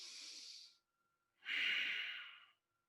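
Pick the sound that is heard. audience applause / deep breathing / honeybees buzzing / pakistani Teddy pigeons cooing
deep breathing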